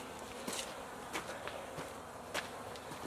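Russian honey bees buzzing inside an opened hive fitted with an insulated shim: a faint, steady droning hum with brief louder passes of individual bees near the microphone.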